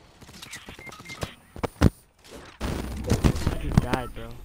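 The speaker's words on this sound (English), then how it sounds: "Oh, I hear a gunshot." Gunshots in an online shooter game, a few sharp separate cracks followed by denser rapid bursts of gunfire, heard under a player talking.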